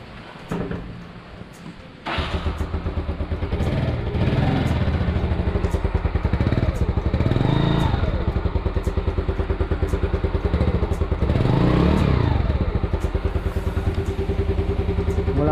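Motorcycle engine idling after a valve cleaning, starting up abruptly and then running with a steady, loud mechanical clatter and rhythmic pulsing, close by, with no talking.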